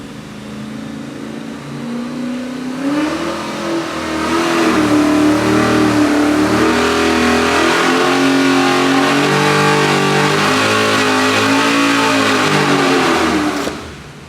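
A twin-turbo 427 cubic-inch LS3 V8 on a dyno revs hard and steadily, climbing toward 6,500 RPM, loud and close with a rising engine tone held for several seconds before cutting off.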